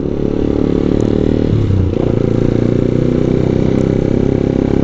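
A motorcycle being ridden and filmed on a GoPro, its engine loud and close in a steady chugging drone with a brief dip in revs midway and some light clatter, with no talking.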